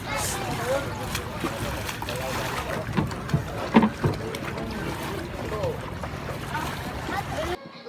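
A motorized pump boat carries passengers across the water near the fishport in General Santos City, its engine drone and water wash forming a steady, busy rumble with wind buffeting, while voices talk over it throughout.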